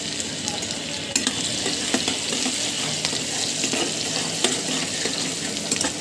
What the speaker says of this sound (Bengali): পেঁয়াজগুলো একটু লাল লাল করে ভেজে নেব।